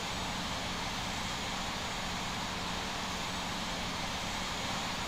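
Steady broadband jet engine roar from an aircraft taxiing toward runway 19 in Infinite Flight, a continuous, even drone with no voices over it.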